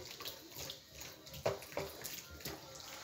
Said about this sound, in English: I'm washing it in hot water.